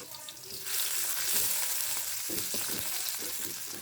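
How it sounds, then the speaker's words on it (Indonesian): Shallots and garlic with galangal and bay leaves, plus lime leaves, sauté in hot oil: a steady, loud sizzle that swells after a quiet start, with scraping stirs against the pan near the end. "kita akan menumis sekarang ini ya bawang-bawangannya dengan lengkoas dan daun salam"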